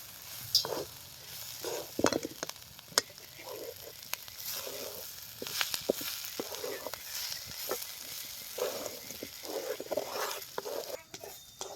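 Capsicum tossed with crushed peanut powder and pounded garlic in a pan over a village wood-fired stove, a soft sizzle under repeated scraping stirs in an uneven rhythm.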